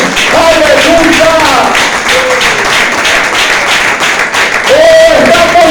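Loud applause from a church congregation for Jesus Christ, with steady clapping mixed with crowd noise and raised voices calling out over it for the whole stretch.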